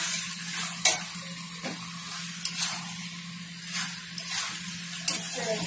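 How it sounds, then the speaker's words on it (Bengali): Banana flower fries in a pan with prawns, chickpeas and sugar while a spoon stirs it. A steady sizzle runs throughout, broken by several sharp scraping stirs at irregular intervals, close and clear. "এবার সব ভালো করে মিশাবো।"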